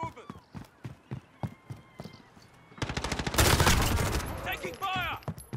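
Gunfire in Call of Duty: Modern Warfare, starting as a string of separate sharp shots and then turning into a loud, dense burst of rapid fire, with a voice heard near the end.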